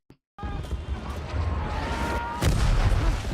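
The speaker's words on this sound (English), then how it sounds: "Big artillery." Big artillery fire in a First World War film, heavy booms and rumbling blasts with a sustained battle roar and a loud hit near the end, moderately close.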